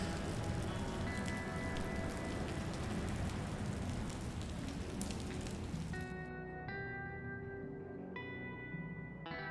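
Steady rain pours in Batman: The Enemy Within, a dense hiss of drops on surfaces that runs throughout, with soft chiming music tones joining near the end. No voices.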